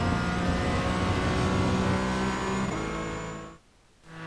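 Porsche race car engine in a Spa-Francorchamps esports racing game, the car sliding on overheated rear tyres, a steady loud droning whine that holds, then briefly drops out near the end before returning, with no talking.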